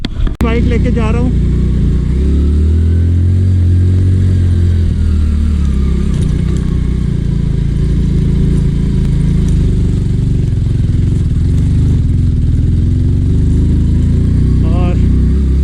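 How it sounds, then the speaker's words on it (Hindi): A motorcycle engine drones steadily as the bike climbs uphill on a hill road in Aurang Kel, Kashmir, a close, continuous low rumble that holds for the whole stretch, with a voice talking briefly at the start and end. "बाइक लेके जा रहा हूँ।"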